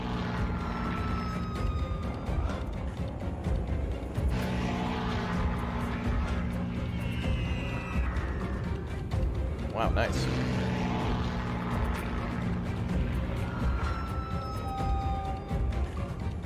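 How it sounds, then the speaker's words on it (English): WWII torpedo bomber aircraft in a Pearl Harbor strike strategy video game drone with a steady propeller engine rumble, joined by whining fly-bys and a sharp burst near the middle, while someone talks over it. "torpedo bombers coming in"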